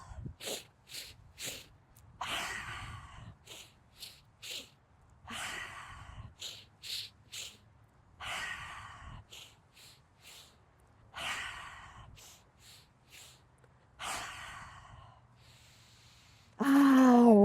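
Breath of joy breathing exercise: a series of short, sharp rhythmic inhales followed by longer forceful exhales, close and fairly quiet, repeating in rounds with brief pauses between.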